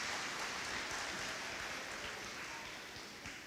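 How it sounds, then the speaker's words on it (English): Convocation attendees applaud one another, soft and distant clapping that spreads as an even crackle through a large hall and slowly fades toward the end. "give that person a round of applause for their hard work"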